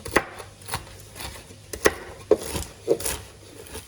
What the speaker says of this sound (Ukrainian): горіхи подрібнюємо тако не дуже мілко, а так, щоб була фракція у нас